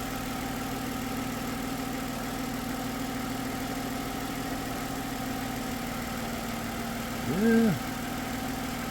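A 2009 Toyota RAV4 engine idles with an ignition coil fault, giving a steady, even mid-low hum throughout; a short spoken word cuts in near the end.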